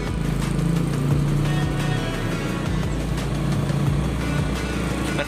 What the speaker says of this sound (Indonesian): mesinnya sudah nyala sekarang. Mercy ya.